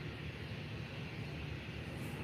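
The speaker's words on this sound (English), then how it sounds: "Our last plane is the Wizz Air A321 XLR takeoff." Wizz Air A321 XLR airliner taking off at Faro Airport, a continuous broad distant jet roar, steady and fairly faint, with no voices.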